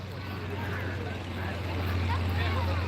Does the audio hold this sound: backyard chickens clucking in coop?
no